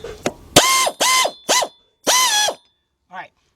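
A ratchet wrench tightens bolts on the 3.7-litre engine of a 2003 Jeep Liberty Sport during a partial rebuild, heard as four quick, loud, close bursts of ratcheting separated by short pauses.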